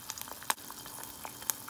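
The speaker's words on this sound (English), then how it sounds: "you hear that sizzle?" Egg frying in a pan, a soft continuous sizzle with scattered small pops and crackles, close and fairly quiet, with no talk.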